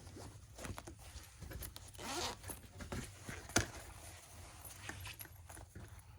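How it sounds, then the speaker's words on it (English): A zipper on a sewn fabric pouch is drawn closed in a few quick rasping pulls, close and quiet, with soft fabric rustling around it. "It's going to be a little easier if I close my zipper."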